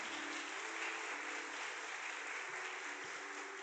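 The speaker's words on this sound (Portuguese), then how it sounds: "Aplaude a palavra de Deus," A church congregation applauds during a Catholic preaching service, a dense, continuous burst of many hands clapping that fills the whole stretch at steady volume, with no talking over it.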